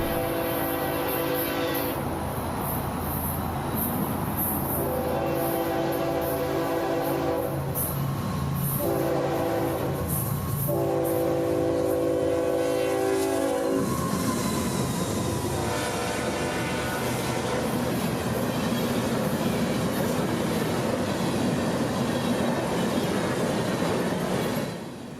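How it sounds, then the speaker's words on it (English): A northbound BNSF empty grain freight train passes, its horn sounding in several long blasts before the loud rumble and clatter of the cars takes over and continues steadily, close by and with no talking. "our northbound grain train is racing north and would pass us in seconds."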